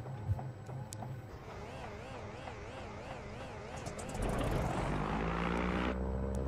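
Engine of a Nardi Riviera amphibian aircraft running with its propeller, a wavering hum and whine that grows into a loud steady roar near the end, close by.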